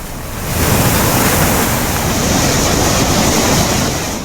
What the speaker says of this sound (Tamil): அருவியில் பிரவாகமாய் தண்ணீர் பாய்ந்தோடும் ரம்மியமான காட்சிகள்.